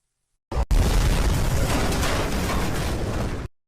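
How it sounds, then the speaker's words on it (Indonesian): A sudden loud blast as a train carriage explodes erupts into a sustained roaring rumble of debris and fire that holds for a few seconds, then cuts off abruptly. "Lalu gerbong itu pun meledak."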